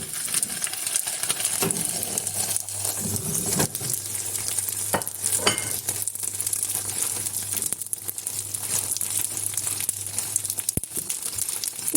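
Food fries in a pan on a stovetop with a continuous hissing sizzle, dotted with crackles, scrapes and a few sharp clicks, and a low steady hum runs underneath.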